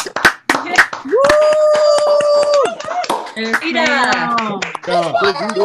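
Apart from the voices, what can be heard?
round of applause from meeting participants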